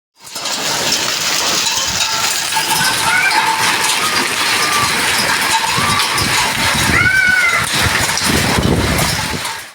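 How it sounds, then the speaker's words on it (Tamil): Heavy summer downpour with hail in Tiruppur, Tamil Nadu: a steady, loud roaring hiss of rain with scattered sharp clattering impacts throughout, and a few faint squeaky sounds. "திருப்பூர் நகரிலும் அதை ஒட்டிய இடங்களிலும் கனமழை பெய்தது."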